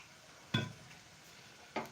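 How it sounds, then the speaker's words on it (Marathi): Whole spices frying in oil in a pan, a faint low sizzle broken by two sharp clinks of a utensil being stirred against the pan, close and quiet. "तेलामध्ये पूर्ण मसाले छान परतून घ्यायचे"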